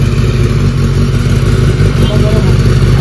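A Kawasaki ZX10R 1000cc superbike engine runs loud and close, a steady rough rumble with slight revving under continuous chatter from people nearby.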